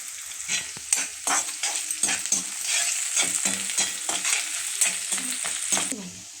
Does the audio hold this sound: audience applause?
no